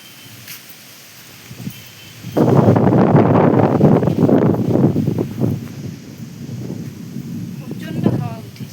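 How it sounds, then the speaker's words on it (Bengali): Strong wind gusts outdoors under a darkening cloudy afternoon sky with no rain. A quiet start gives way to loud, steady, rumbling buffeting that holds for several seconds before easing slightly. "প্রচণ্ড হাওয়া উঠেছে"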